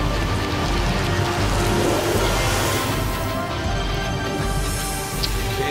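A rain spell cast from a scroll in Divinity: Original Sin, heard as a steady, loud wash of falling rain that fills the whole stretch without pause.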